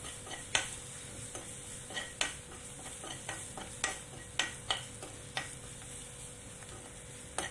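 Ginger and ground coriander roast in a pan, a soft sizzle running under repeated clicks and scrapes from a spatula stirring at a steady pace.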